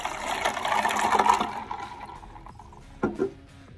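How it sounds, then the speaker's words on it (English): Water splashes and pours over ice in a container over about a second and a half, then stops, followed by a couple of brief clinks and knocks. "To that, add some water."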